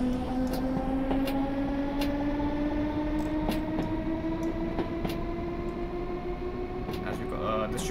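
A London Underground District line train in Train Simulator rumbles along with a rising motor whine and intermittent clicks of the rails, while a voice talks over it.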